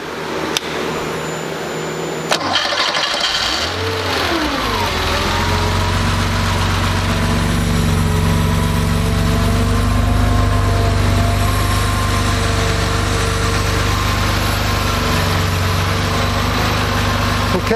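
A Porsche engine with CIS fuel injection, warm after sitting about 20 minutes, cranks briefly and catches without throttle, then settles into a steady, loud, low idle that continues without a break.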